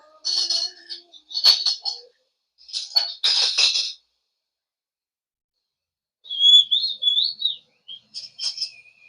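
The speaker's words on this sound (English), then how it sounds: "Now she's whistling, I guess." A woman's brief whistled tune rises and falls, fairly soft, following a few scattered bursts of clattering dishes with quiet gaps between them.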